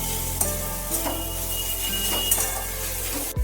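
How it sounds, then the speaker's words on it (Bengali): Bitter gourd with turmeric, salt and spices sizzling in a pan as it is stirred, making a steady, dense frying hiss with a few soft scrapes and knocks close by. "এবার আমি একটু নেড়ে দিচ্ছি।"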